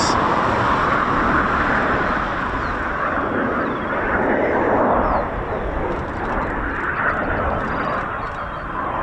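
A Eurofighter Typhoon FGR4 jet roars overhead at RAF Coningsby, flying slowly at high angle of attack; a loud, broad, continuous engine rumble and hiss that swells and eases slightly across the whole stretch, heard from outdoors at a distance.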